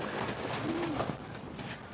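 Stray pigeons coo softly in the background, a faint, brief warble over steady outdoor noise.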